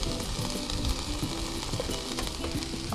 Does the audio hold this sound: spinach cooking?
yes